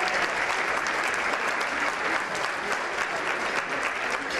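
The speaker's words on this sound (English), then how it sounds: "Please, another round of applause for all of our honorees" A large audience claps steadily and continuously, a dense, even wash of applause with no breaks.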